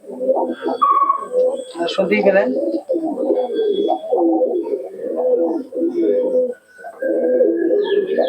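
Breeding pairs of Madras and Malbai pigeons coo in a loft, soft rolling throaty phrases repeating close by in near-continuous bursts with brief pauses.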